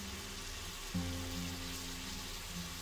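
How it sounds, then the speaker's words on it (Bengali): Small-fish curry masala for a Bengali macher jhol sautés on low heat in a pan, giving a soft, steady sizzle and hiss with a low hum beneath it and no talk. "অল্প অল্প আঁচে এটা ভালোভাবে কষিয়ে নিতে হবে"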